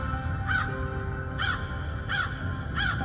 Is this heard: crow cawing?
yes